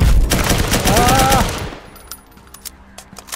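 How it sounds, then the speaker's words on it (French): A loud burst of rapid automatic gunfire from the VR game Firewall Zero Hour rattles close by, then fades into scattered, fainter shots and clicks. "c'est impressionnant quand on entend les coups de feu derrière nous"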